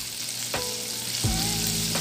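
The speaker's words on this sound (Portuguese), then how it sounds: "Enquanto o bacon dora, né? Vou deixar ele aqui quietinho dourando." Bacon fries in butter in a pan, giving a close steady sizzle with two brief utensil knocks and no talking.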